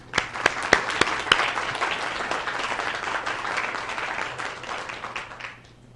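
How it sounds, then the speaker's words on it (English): A city council meeting audience applauds in a dense, steady round of clapping that begins with a few sharp claps, holds for several seconds, then tapers off. "So again, one final round of applause to everyone."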